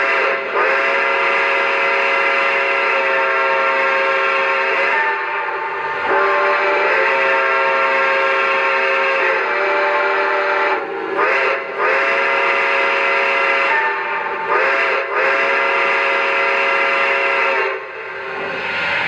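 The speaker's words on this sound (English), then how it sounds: "as I blow the whistle, you'll see smoke shooting out of the whistle back here." A Lionel New York Central Empire State Express model train's loud, sustained multi-tone steam whistle sound effect blows in several long blasts with short breaks between them, with no other sounds around it.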